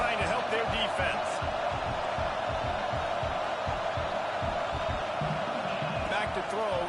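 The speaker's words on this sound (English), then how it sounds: "Listen to this crowd just shaking the girders of this place, trying to help their defense." Crowd in a packed college football stadium roaring to support the home defense, a loud, sustained wash of cheering filling the whole clip beneath commentary.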